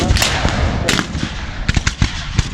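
Black-powder cannon and musket fire at a US Civil War re-enactment, several sharp loud booming reports spaced irregularly, with crackling volleys between them carrying across an open field.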